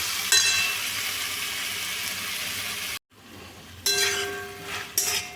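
Fairly ripe-and-green tomatoes frying in a pan hiss steadily, then after a brief break a spatula stirs them with a few scraping, clinking strokes, close and moderately loud.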